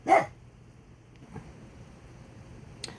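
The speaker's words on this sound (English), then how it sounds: "You can hear my dachshund over here barking at the rain" A single sharp dachshund bark at the rain at the start, then quiet with faint rain-like background and a couple of small thumps.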